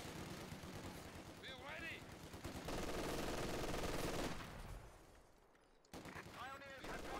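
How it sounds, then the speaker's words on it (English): Machine gun fire and battle noise from the World War II strategy game Company of Heroes 2, with a dense sustained burst of rapid shots midway between stretches of softer combat rumble. A game voice briefly speaks over it. "Machine gun firing."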